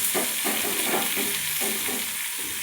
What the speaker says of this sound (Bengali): পেঁয়াজটা একটু ভালোভাবে ভেজে নেব লাল লাল করে।